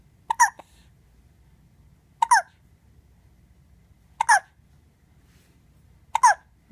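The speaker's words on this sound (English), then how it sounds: "You got the hiccups?" A young child hiccups four times, evenly spaced about two seconds apart, each one a short sharp catch of breath standing out clearly against a quiet room.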